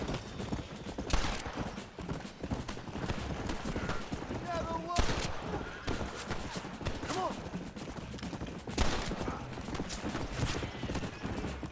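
Enemy gunfire in Red Dead Redemption cracks out in scattered sharp shots over a busy game mix of galloping hooves and a whinnying horse, with a voice talking throughout.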